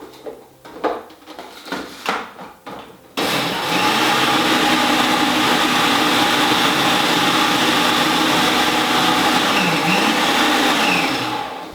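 A food processor whirs loudly and continuously, blending butter into dry crumbs for unicorn treats; a few clattering knocks of handling come first, then the motor starts abruptly and runs steadily to the end.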